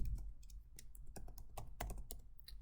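Close, quiet clatter of fingers typing an email address on a computer keyboard, a quick irregular run of key taps with no voices.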